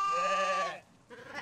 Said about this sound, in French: découvrent dans une grotte des moutons